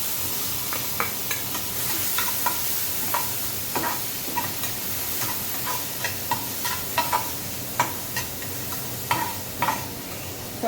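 Tomato with onion frying in a pan for a prawn rasa, a steady sizzle broken by frequent short clicks and scrapes of stirring, close and moderately loud, with no voices.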